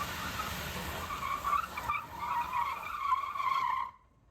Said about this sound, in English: one of the cool features that this car does is the G-turn, yes. The G-turn. That it can turn in the same place.